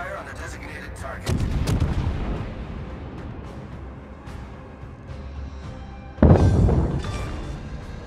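Naval guns fire in a video game sea battle aboard the Baltimore: two heavy, booming salvos, one near 1.3 seconds and a louder one near 6.2 seconds, each trailing a rumbling decay over steady background battle noise.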